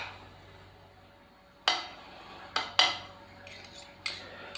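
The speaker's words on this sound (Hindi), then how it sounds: "तो इन सब चीज़ों को अच्छे से हम मिक्स करेंगे।" Bread chicken ball filling is stirred in a bowl with a utensil: a few sharp metallic clinks and taps against the bowl break a quiet background, spaced irregularly.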